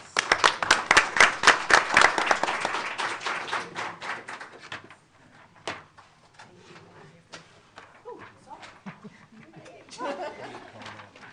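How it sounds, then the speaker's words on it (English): Audience applauding at a county board of education meeting, a burst of dense clapping for a couple of seconds that fades into scattered claps, shuffling and murmured chatter. "Please give her a round of applause."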